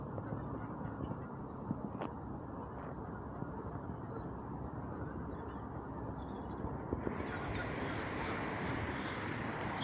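Ducks quack by a river where it flows out of a lake, faint and distant, a soft scattered chatter over steady outdoor background noise.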